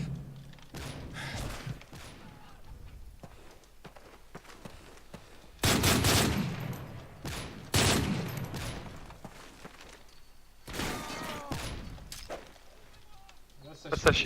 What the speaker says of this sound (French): Le mec il tire dans le sol quoi.